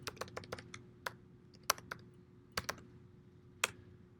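Someone types a menu choice on a computer keyboard, a quiet scattering of crisp, close keystrokes, some in quick clusters and others spaced apart by short pauses.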